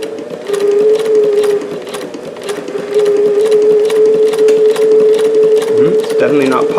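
A Davis vertical feed long needle sewing machine fitted with 15X1 needles runs steadily for several seconds, its motor hum and rapid stitching continuous and close, with a brief pause near the start; loosened bobbin tension.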